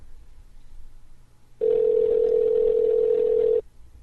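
A steady, loud telephone tone sounds through the earpiece after a number is dialed, holding unbroken for about two seconds before cutting off, with faint room noise before and after.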